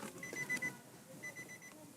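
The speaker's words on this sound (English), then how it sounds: "it is beeping like that because the key is in there" Faint, repeated electronic chimes from a 2016 Nissan X-Trail's key-in-ignition warning, short tonal beeps in a quiet cabin with low background noise.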